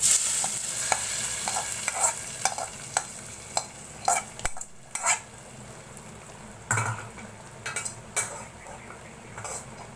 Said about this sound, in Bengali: এখানে বাগারটা দিয়ে দিব।